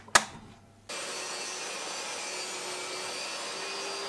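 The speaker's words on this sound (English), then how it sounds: "I had this piece of 12mm thick ply and I ripped it to 85mm at the table saw." Table saw ripping a strip from 12mm plywood: a sharp knock, a short quiet gap, then the saw starts, with a steady whirring cut that holds at moderate level to the end.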